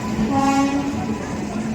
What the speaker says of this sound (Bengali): দেখো আমাদের ট্রেন ঢুকে আছে